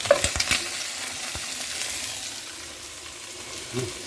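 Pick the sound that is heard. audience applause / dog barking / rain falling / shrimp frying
shrimp frying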